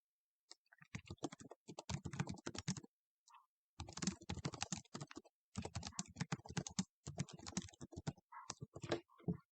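Someone typing a comment on a computer keyboard, close and quiet, with bursts of rapid key clicks separated by short pauses, no voices present.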